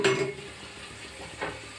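A metal lid clanks down onto a cooking pot of freshly fried chicken with coriander, one brief close clink at the start, followed by a quieter rattle.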